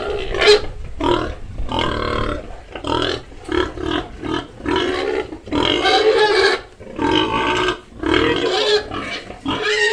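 Pigs grunt and squeal repeatedly in loud, close bursts with short gaps between them, a noisy chorus of livestock on a farm.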